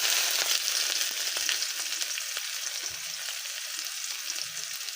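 Chopped onion, whole bay leaf and cumin seeds frying in hot oil for lentil curry give a steady loud sizzle with a few light stirring knocks, no voices.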